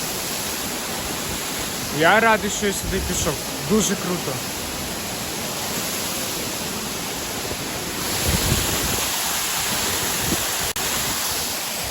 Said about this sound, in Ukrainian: Ось цей водоспад.